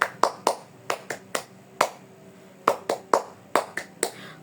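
A class claps through the 'tepuk semangat' cheer in a lesson, a long string of about fourteen sharp, close hand claps grouped in quick bursts with brief gaps, and no speech.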